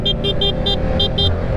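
A sport bike motorcycle ridden with no front wheel runs through a wheelie, its engine a steady loud drone with a repeating high whine pulsing about six times.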